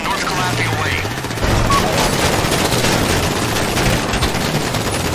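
Gunfire in GTA 5 Online during the Humane Labs Raid Insurgents mission: a dense, continuous burst of automatic shooting and booms swells in after a brief engine-like drone, loud and close throughout, with game voices mixed in.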